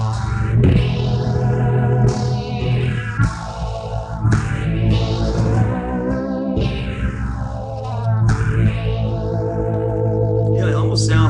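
A Zoom R8 recorder's "flower" effect, a swirling, chorus-like modulated guitar tone with sweeping phaser motion, plays loud and continuous throughout.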